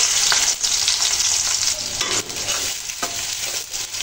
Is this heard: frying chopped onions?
yes